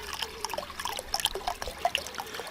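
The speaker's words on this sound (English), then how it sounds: "And I'll just add my vinegar here to make sure that any remaining salt will be taken also." Vinegar poured gently into a container, a light, close liquid trickle with small splashy drips scattered over a couple of seconds, fairly quiet, with no talking.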